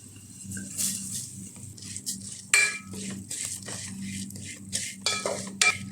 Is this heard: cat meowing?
no